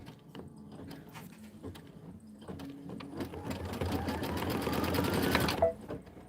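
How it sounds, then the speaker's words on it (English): An embroidery machine stitches out a winter design in a rapid, continuous mechanical patter that swells louder near the end before stopping abruptly, with no talking. "go ahead and stitch this out. This is 2 minutes of stitching"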